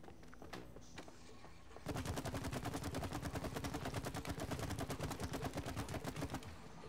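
Rapid automatic gunfire at a shooting range in the It Takes Two video game, a loud, dense string of evenly spaced shots lasting several seconds after a quieter start.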